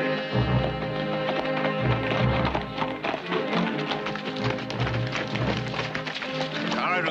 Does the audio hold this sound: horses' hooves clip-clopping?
yes